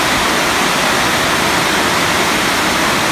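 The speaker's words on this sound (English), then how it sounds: "I thought I'd stop off at something on my way and show you this amazing waterfall" Waterfall feeding the Buchan River system, a loud, steady, dense roar of falling water filling the whole clip without a break.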